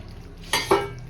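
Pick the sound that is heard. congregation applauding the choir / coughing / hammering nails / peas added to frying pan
peas added to frying pan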